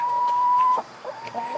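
Backyard homestead chickens cluck in short, close bursts, with a steady tonal hum running underneath and no one talking.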